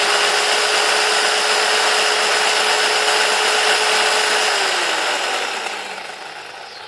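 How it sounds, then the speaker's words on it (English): Electric chainsaw from a Worx unboxing, running steadily with a loud, high whining motor hum for several seconds, then spinning down as the pitch drops and the sound fades. "A perfectly usable chainsaw."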